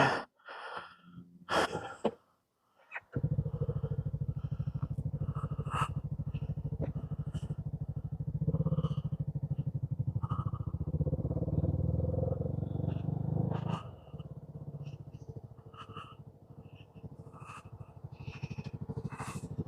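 A CFMoto 300NK motorcycle engine runs steadily while riding around Bethlehem, a continuous loud low drone with a brief quiet gap near the start before the engine noise takes over.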